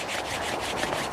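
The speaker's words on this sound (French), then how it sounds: "On frotte les mains." Hands rubbing briskly together during a qi gong kidney exercise make a close, soft, rhythmic swishing friction that continues steadily through the short moment.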